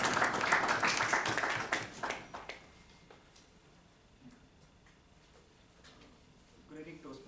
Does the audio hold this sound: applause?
yes